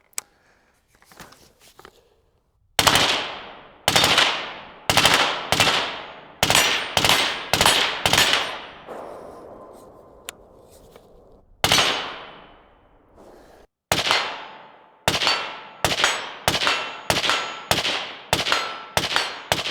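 A Swiss SIG 551-2 LB SWAT rifle with a BEO suppressor fires a series of sharp, loud shots, some in quick pairs and runs, with ringing metallic decay between them and a brief pause midway.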